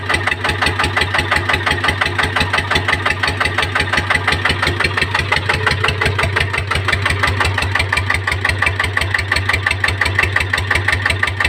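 A Power Magnum GT 155 diesel engine driving a water pump runs steadily nearby, its rapid rhythmic clatter carrying a mechanical gear whine, loud and continuous with no voices.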